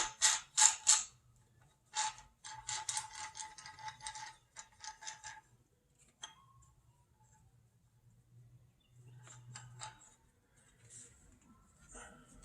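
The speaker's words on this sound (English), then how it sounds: "that's what's going to run the crank pulley onto the snout of the crankshaft" A threading tool runs the crank pulley onto the snout of an LS3 crankshaft, producing close bursts of ratcheting mechanical clicks over the first few seconds, then a quieter low hum with occasional faint clicks.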